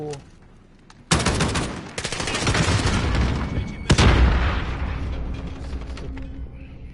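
Bursts of rapid gunfire crackle in a game, with loud sustained volleys and a sharp shot near the middle over mechanical clatter.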